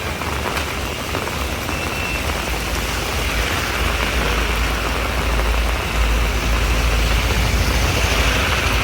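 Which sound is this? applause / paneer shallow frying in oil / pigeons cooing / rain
rain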